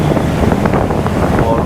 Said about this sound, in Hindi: यहाँ पर जो है ना हवा अच्छी चल रही है, ठंडी ठंडी